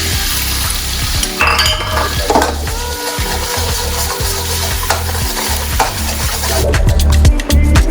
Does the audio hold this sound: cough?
no